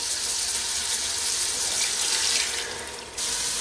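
Water poured from a container into ground spices in a pressure cooker while making dhaba-style dal mash, a steady, close, gushing splash that briefly thins near the end before resuming.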